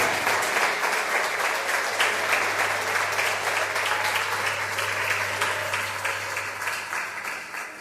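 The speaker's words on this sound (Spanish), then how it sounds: "Dale un aplauso al Señor en esta tarde." Sustained applause from a church congregation at a Christian women's conference, steady dense clapping throughout that gradually eases off toward the end.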